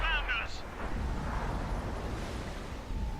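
An M46 Patton tank cannon fires in a video game: one deep booming blast at the start, then a rumbling tail fading into steady low background noise.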